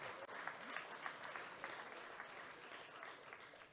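An audience at a charity gala event applauds steadily, a dense continuous clapping with a few louder claps standing out near the start.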